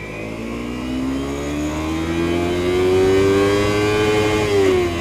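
A Kawasaki Ninja 250FI motorcycle engine revs up close and loud, its pitch climbing smoothly and steadily for several seconds before dropping off at the end.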